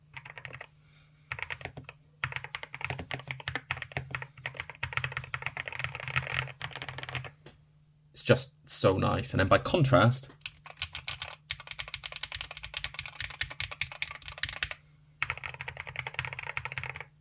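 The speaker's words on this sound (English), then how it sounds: "Just listen to this as a typing experience." Rapid clattering keystrokes on a mechanical keyboard, steady and close, with a short pause partway through and a person talking over the typing.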